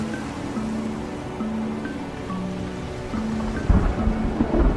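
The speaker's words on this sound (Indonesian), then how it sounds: "Seketika cuaca berubah menjadi gelap, hujan turun dengan lebatnya." Heavy rain pours steadily during a storm at sea while a ship is aboard, with a low thunder rumble breaking in near the end and faint sustained tones running underneath.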